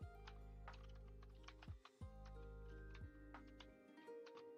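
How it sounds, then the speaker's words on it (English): Typing on a computer keyboard: rapid, irregular clicks and taps close by, with a steady tonal hum underneath and no talking. "Not good at typing, sorry guys."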